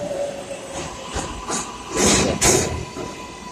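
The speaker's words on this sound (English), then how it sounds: "So this the first 4 train." A New York City subway 4 train rushes past close by, with rumbling wheels, metallic clatter and hissing bursts swelling over a few seconds.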